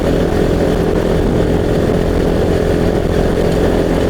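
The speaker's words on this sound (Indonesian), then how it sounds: "Motornya itu udah mulai padat gitu" Motorcycle engines roar continuously and loudly on a busy road, a dense, unbroken drone of passing traffic with no voices.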